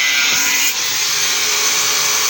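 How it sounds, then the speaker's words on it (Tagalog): A loud, continuous grinding hiss of a power tool cutting through an air conditioner's metal radiator to reach the copper, steady and close throughout. "Hinihiwa na ni Loloy para makuha yung tanso sa ilalim"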